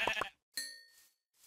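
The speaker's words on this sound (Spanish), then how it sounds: "Voy a matar a esa oveja porque ya veo que en un momento se va." A sheep bleats in a blocky Minecraft-style survival video game, a short close game sound effect followed by a ringing chime-like tone and faint trailing echoes.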